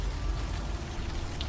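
Rain in the video game Old Skies: a steady, even hiss of falling raindrops, fairly faint and continuous, with no voices.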